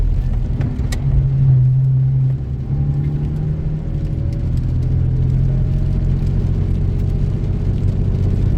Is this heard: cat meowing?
no